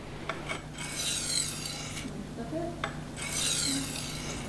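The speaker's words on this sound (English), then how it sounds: "If the edge is dull, start sharpening on a medium stone" A knife is drawn across a medium Norton sharpening stone, giving steady gritty rasping strokes in a slow back-and-forth rhythm, close and fairly quiet.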